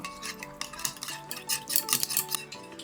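Chicken being mixed by hand or spoon with yogurt, garam masala, turmeric and black pepper in a bowl, giving soft irregular squelching and scraping strokes with light clinks, close and fairly quiet.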